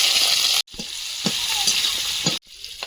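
Green chillies and nigella seeds crackle and sizzle in hot oil left from frying fish, a steady close hiss with a few stirring knocks, cut by two brief silent gaps.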